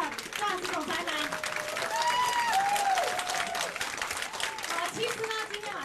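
Audience at a Hong Kong business conference claps steadily, a thick wash of applause from a crowd, while a presenter keeps speaking loudly over it.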